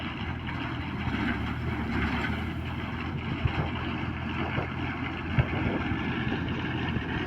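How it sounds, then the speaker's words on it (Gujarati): A full-power Mahindra tractor drives a cow dung manure spreader across a farm field with a steady, loud engine rumble. Wind buffets the microphone, and a couple of faint knocks are heard. "full power Mahindra tractor"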